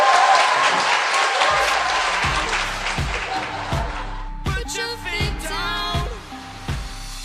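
A studio audience applauds a returning lawmaker on a political talk show. The clapping is loud at first, then thins and fades as tonal, music-like sounds and voices take over.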